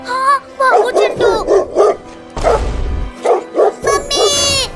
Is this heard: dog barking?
yes